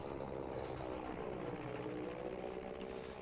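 Propeller warplane in Battlefield 5's Pacific Storm, a steady droning engine hum with a faint whine, continuous and moderately loud with no talk.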